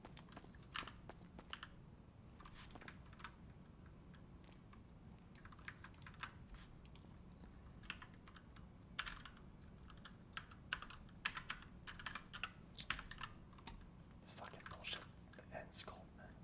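Rapid clicking of a computer keyboard during a gaming session, quick irregular keystrokes in bursts throughout, fairly close but quiet, under soft talking.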